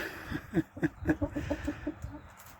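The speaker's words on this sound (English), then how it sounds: "It's nice to see the content little chicks and the big ruckusy cockerel." A rhythmic series of low, throaty clucks from a cockerel, close and distinct, with faint softer chick noises in the background.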